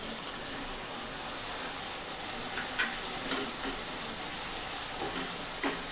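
Masala for dhaba-style masala bhindi sizzles steadily in a pan, a continuous close fry with faint scraping now and then and no talking.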